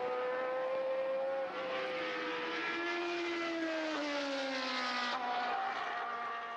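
Formula One cars from the 1975 season lap the circuit, their high-pitched engines whining loud and steady as they pass, the pitch sliding down as they move away, with no talk over it.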